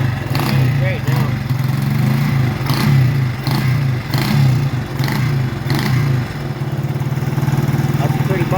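A motorcycle engine runs close by, with a throaty low rumble that swells in repeated revs and settles back, while people talk over it.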